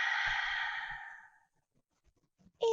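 A single long, breathy exhale from a Pilates matwork session, fairly close and steady for about a second and a half before fading into quiet, with a faint click near the end.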